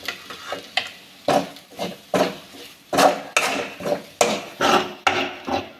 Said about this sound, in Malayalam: പൊടികളുടെ പച്ചമണം മാറുന്നത് വരെ ഇത് നന്നായിട്ടൊന്ന് ഇളക്കി കൊടുക്കാം